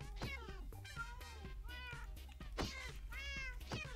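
Repeated cat meows from a Minecraft cat, several calls in a row at close range and fairly loud over constant game background noise.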